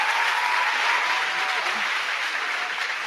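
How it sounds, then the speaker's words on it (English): A rousing round of applause at a college awards ceremony, a thick even wash of many hands clapping throughout, steady and fairly loud. "Let's give them a rousing round of applause"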